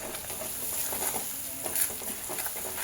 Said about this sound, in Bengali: স্বাদ মতন লবণ দিয়ে ভালো করে পেঁয়াজ মরিচটাকে ভেজে নেব